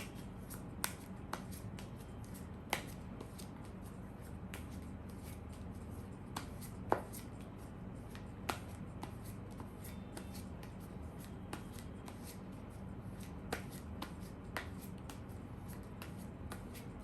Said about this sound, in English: So just think about your person while I shuffle the cards for you.